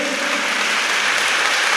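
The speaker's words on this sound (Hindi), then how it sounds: "ऐसी ताली आज बजाओ, रोग देह के मिट ही जाए" Audience clapping steadily through a Jain monk's sermon gathering in Ghatol, a dense, loud wash of many hands with no speech over it.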